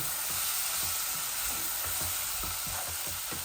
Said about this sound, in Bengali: শুটকি আর ইসাগুলা ভাজা হয়ে যাক